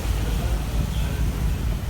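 Wind rushing over open sea off Batangas under cloudy, drizzly skies, a dense steady blowing hiss with low rumbling wash from light waves, continuous and close to the microphone, with no clear voices over it.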